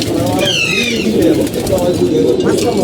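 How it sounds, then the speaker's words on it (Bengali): Silver game pigeons coo in a home loft, low throaty calls repeating close by over a dense, noisy background. "এই যে কবুতর দেখতে পাচ্ছেন"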